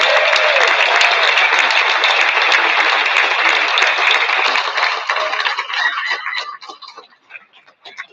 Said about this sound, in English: Let's give everybody one more big round of applause.